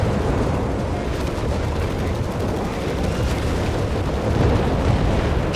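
An incendiary artillery barrage pounds away in Company of Heroes 3, a dense, continuous rumble of overlapping explosions and booms that roll on without pause.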